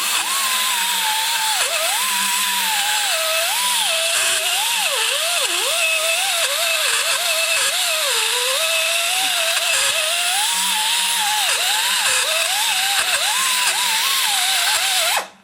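A carbide blade chatters while machining, skipping and jumping against the workpiece as a loud, continuous high grinding whine whose pitch wobbles and dips irregularly, cutting off abruptly at the end.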